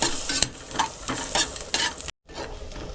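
Garlic cloves and cashews sautéing in butter in a pan for a pumpkin pasta, with a steady sizzle, repeated stirring scrapes and a brief gap near the end, close and fairly loud, with no talking.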